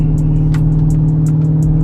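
A Jeep with a 5.7 Hemi engine, heard from inside the cabin, gives a loud, steady low drone at constant speed, with small ticks and clicks over the hum.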